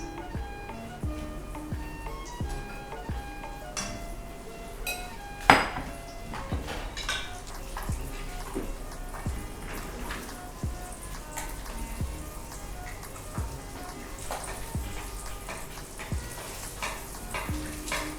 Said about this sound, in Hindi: अब ये अंडे जो है इसमें फ्राई कर लेते हैं